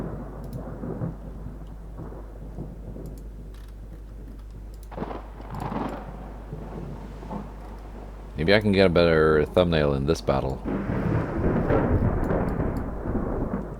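A thunderstorm rumbles low and steady in a naval battle video game, rain hissing beneath it, while someone talks over the top and a brighter burst of game sound rises near the end.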